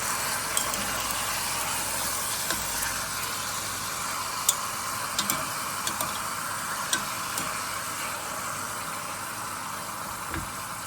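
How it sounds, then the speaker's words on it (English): Beef cheeks brown in a hot pot with a steady, broad sizzle throughout, punctuated by scattered small pops and spits, close and fairly loud with no talking. "Now I'm going to brown these beautiful beef cheeks."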